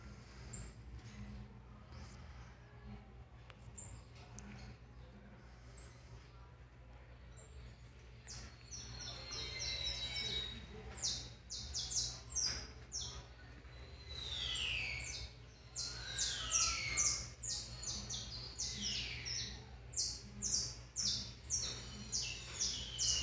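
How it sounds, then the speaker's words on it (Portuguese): Canary singing, in a duet of song with another bird further off, rapid trills and chirps that build from quiet to loud, repeated bursts close by over a low background hum. "Esse aí é o canário."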